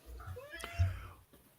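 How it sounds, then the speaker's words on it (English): A chunky, fluffy cat gives a single drawn-out meow, faint and sliding downward in pitch, over a quiet low background hum. "Wow, that's a cat."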